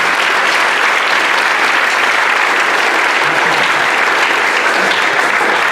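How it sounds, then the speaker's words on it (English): An audience at the Richmond Middle School Band spring concert applauds the middle school band students, a dense, steady wash of clapping held close and loud throughout with no break. "I'd like you to give them a round of applause for being here after a crazy middle school experience"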